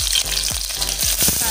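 Green chilies fry in hot oil in a cooking pot for a Goan dish, a dense close sizzle with crackling pops and bubbling bursts throughout.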